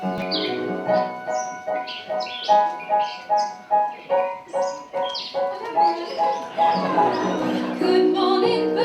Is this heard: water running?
no